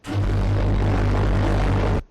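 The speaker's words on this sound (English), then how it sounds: "these ramps make that unbelievable sound" A loud, steady mechanical roar with a deep droning rumble from a ramp mechanism in Empyrion Galactic Survival holds for two seconds, then stops abruptly.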